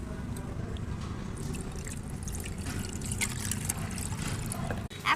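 Cut fish being washed under running water, a steady close trickle and splash that flows without a break, with a short knock near the end.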